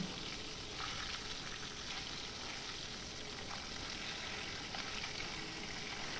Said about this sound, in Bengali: তারপরে একটু এপিট ওপিট করে মাছগুলোকে ভেজে নিচ্ছি